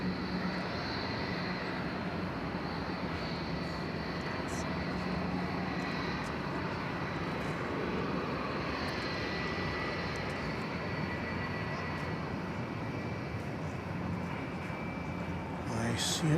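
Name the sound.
Qantas airliner flying at DFW Airport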